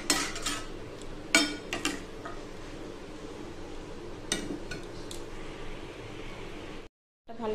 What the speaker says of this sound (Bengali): আর একটু মশলাগুলো কষিয়ে একটু জল দিয়ে দেবো। ভালো করে নাড়িয়ে চাড়িয়ে